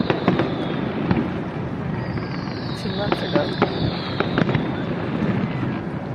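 Fireworks at a riverside display burst and crackle steadily from a distance, with repeated sharp pops over a continuous dense rumble, as a person speaks briefly.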